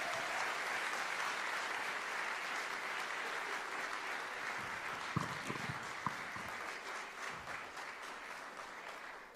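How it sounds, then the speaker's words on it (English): A church congregation at a UK preaching service claps, steady even applause at moderate level with a couple of sharper claps near the middle, continuing without talk. "You give them a round of applause."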